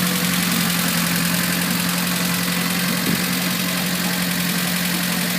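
A 1989 Nissan 240SX engine idling with exhaust note, a steady close drone with a low hum and a single brief blip near the end, no speech.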